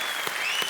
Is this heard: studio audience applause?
yes